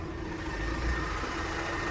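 A 2015 Nexia 2 car engine idles with a hybrid setup and Delkor battery, a steady even low rumble and hiss held close and constant throughout, no voices.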